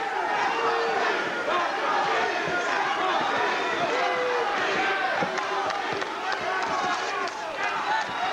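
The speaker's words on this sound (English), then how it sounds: "Crowd chanting Super D." Arena crowd at the John Duplessis vs Richie Albrecht fight, chanting and cheering throughout in a continuous roar beneath steady commentary.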